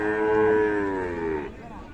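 Friesian cattle at a livestock market let out a loud, drawn-out moo filling most of the moment, a long harmonic bellow that fades into faint background noise at the end.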